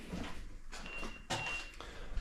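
The rear door of a Ukrainian Elektron bus closes with a faint pneumatic hiss and a soft thud, then a short thin electronic tone, all quiet against low cabin background noise.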